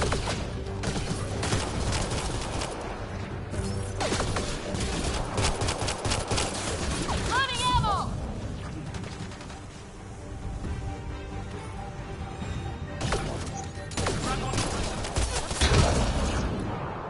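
Sustained gunfire from the sci-fi shooter Mass Effect Andromeda: a dense, steady barrage of rapid shots rolls on for the whole stretch, close and loud, with a brief chirping electronic whine midway and no voices.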